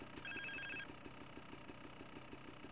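Phone in Grand Theft Auto San Andreas rings once with a bright electronic trill over a quiet, steady background thump, no one speaking.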